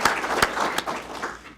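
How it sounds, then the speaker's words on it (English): A graduation crowd at a supervisor academy ceremony breaks into dense, sustained applause for the training division, with a few sharper individual claps standing out over the wash. "Please give them a round of applause."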